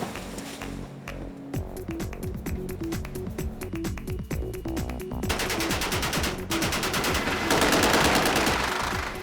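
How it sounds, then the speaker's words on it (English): H&K UMP gunfire in a video game, rapid automatic bursts crackling in quick succession, loud and close, building into denser, heavier firing toward the end with no talking. "Spent a lot of time getting through a lot of rounds with my machine gun."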